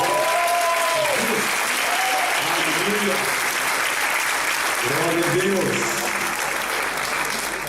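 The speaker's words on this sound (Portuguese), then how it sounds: "então, aplaudindo" A church congregation applauds during a service, a loud continuous wave of clapping with a voice calling out over it at moments.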